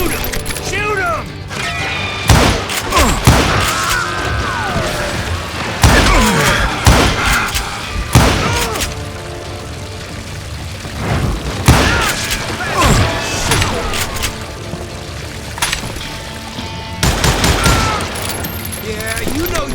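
Gunfire from a saloon shootout in Call of Juarez Gunslinger, repeated loud bursts of shots and heavy booms spread across the stretch, with voices shouting between them.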